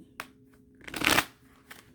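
Tarot cards shuffled by hand, with a brief riffle near the start, then a louder rustling flurry in the middle and a short final flick, all fairly close with no talking.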